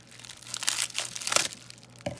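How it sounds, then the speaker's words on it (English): Bubble wrap packaging crinkles and crackles in irregular bursts as it is handled up close, with no voices. "That's so much bubble wrap."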